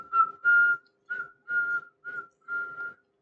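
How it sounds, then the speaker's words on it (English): A person whistles a bright tune in six short phrases with brief pauses between, clear and close with no other sounds. "He whistled all the way home."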